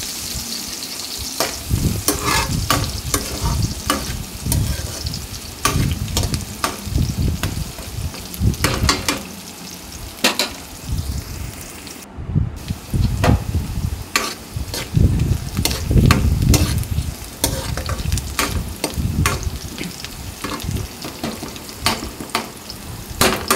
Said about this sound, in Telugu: ఈ విధంగా మొత్తం కూడా కలిసే విధంగా గరిటతో కలుపుకొని ఫ్రై చేసేసేయాలి.